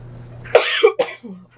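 A person coughs in a sudden fit, three harsh close bursts in quick succession, loud and alone.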